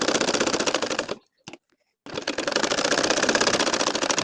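A sewing machine stitching a nakshi kantha design runs in a fast, even clatter, stops for about a second, then resumes its rapid rhythmic stitching, close and loud.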